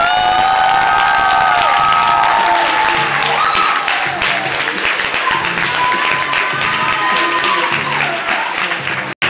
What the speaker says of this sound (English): Please give a warm round of applause for Yosimar Reyes.